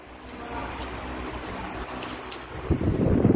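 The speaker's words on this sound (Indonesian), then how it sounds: "ketika kita memakai kipas angin Philips ACP 610 ini dengan kecepatan maksimal" A Philips ACP610 pedestal fan runs at maximum speed, giving a steady broadband whoosh of moving air with a rougher, louder gust near the end.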